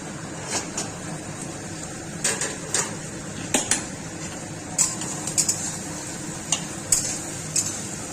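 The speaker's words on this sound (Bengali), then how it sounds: "পেঁয়াজ লাল লাল করে ভেজে নিব।" Onions with dried chilli and whole cumin cooking in a pan for village-style mutton, giving a soft steady sizzle with scattered light clicks and scrapes of stirring, close and moderately quiet with no talk.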